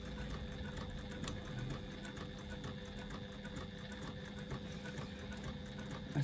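Sewing machine stitching two layers of faux leather card slots with a size 14 needle, making a few back stitches: a steady, fairly quiet mechanical whir with a rapid needle rhythm running throughout, no talk.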